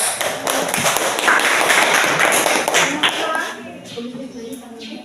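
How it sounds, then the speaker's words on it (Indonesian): A class of students applauding in a classroom, dense close clapping that holds for about three seconds and then thins out, with voices faintly underneath. "Beri aplaus"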